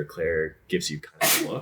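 A single sharp sneeze bursts out near the end, close and loud, following a stretch of spoken narration at a tabletop role-playing session.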